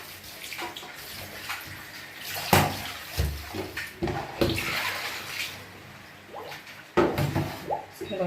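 Cabbage rinsed under running water for Jamaican steamed cabbage with salt fish, with splashing and a steady tap flow, interrupted by handling knocks and brief pauses, close and moderately loud.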